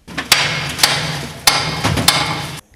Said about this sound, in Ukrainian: Бій молотів та шкварчання газової установки